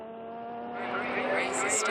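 Race cars at the race start at Laguna Seca, engines building into a rising roar with a whine at the end, heard over someone speaking.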